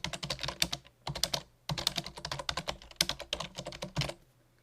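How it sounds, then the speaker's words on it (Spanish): Keys tapping on a computer keyboard while writing in LibreOffice Writer, four quick close bursts of clicking separated by short pauses, with no other sound. "Ahora escribo en un segundo párrafo."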